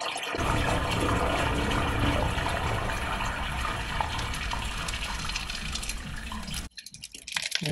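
Water rushes steadily into a newly plumbed toilet, a loud, close, continuous gush that cuts off abruptly near the end, leaving quiet with faint trickles.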